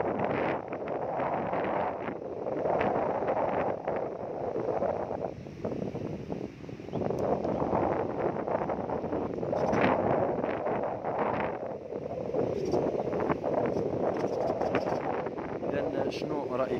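Strong wind buffets the microphone outdoors in Nador, a loud rumbling roar with gusty swells that runs throughout under ongoing talk.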